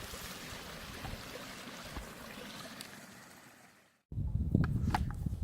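A mountain creek at around 10,000 feet rushes steadily as a broad wash of flowing water, fairly near and even, cutting out briefly before resuming louder with splashier close-up gurgles.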